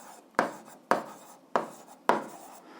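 Chalk or pen strokes on a board during a Ukrainian eighth-grade algebra lesson, four distinct scratching strokes at a steady rhythm, close and moderately loud with no talking.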